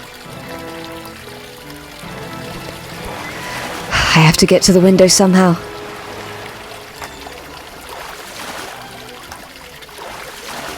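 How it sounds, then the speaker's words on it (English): Water flowing into a chamber in a Phantom of the Opera video game, a continuous rushing gush with a louder burst of splashing partway through, under someone talking over game music. "the water's going to burst through the chamber, isn't it?"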